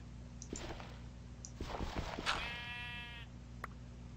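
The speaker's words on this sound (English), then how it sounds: "Oh, it's a sheep." A sheep in the video game Minecraft lets out one wavering, drawn-out bleat, clear over a quiet, steady game background hum, with a few soft clicks before and after.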